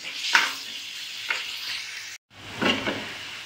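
Chicken pieces frying and being stirred in a hot pan, with a steady broadband sizzle broken by a few louder scraping bursts and a brief gap of silence before the frying resumes.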